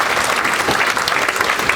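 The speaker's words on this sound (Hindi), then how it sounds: "उसके लिए एक बार जोरदार तालियां बजा दो।" A Hindi comedy poetry gathering's crowd applauds the poet Deepak Saini, a loud, dense, steady clatter of many hands.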